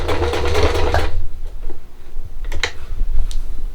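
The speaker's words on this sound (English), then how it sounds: "I'm just sewing around my, I'm turning this as I go." A sewing machine stitches rope into a Dollar Tree rope bowl, a loud rapid mechanical rattle for about a second, then quieter ticks and clicks as the work is turned between short bursts.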